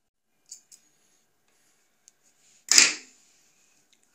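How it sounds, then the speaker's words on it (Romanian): Scissors snip crochet yarn in a quiet room: a few faint small clicks, then one sharp, close cut with a brief rasping tail. "Se hace un punto y se corta el hilo."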